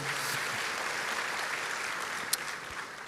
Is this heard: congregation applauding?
yes